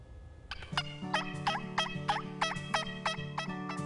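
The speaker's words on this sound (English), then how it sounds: "Calling all turkeys." A series of rapid turkey gobbles on a Virginia farm, about eight rattling bursts in quick rhythm, loud and close with a low steady hum underneath.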